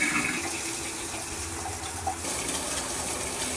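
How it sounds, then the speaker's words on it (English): Hot shower water running steadily in a tiny house in Alaska, a close, continuous spray and splash with slight shifts in tone, no talking. "so I could take a hot shower all by my lonesome."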